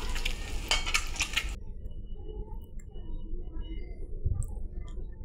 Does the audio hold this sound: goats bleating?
no